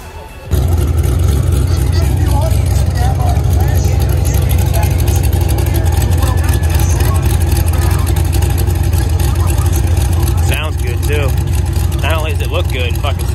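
A loud car engine rumbles and revs steadily with a deep low growl at the Rats Nest Run In car show, while people talk and cheer over it nearby.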